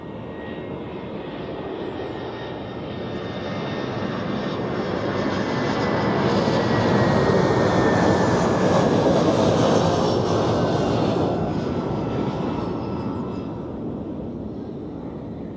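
A Cyprus Airways jet airliner at Zurich Airport roars past, a broad engine noise that swells from moderate to loud and then gradually fades, with no talk.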